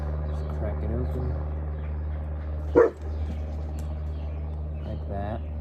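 A single short dog bark breaks through a steady low hum in a garage-like space during a push mower carburetor rebuild, with otherwise little activity around it.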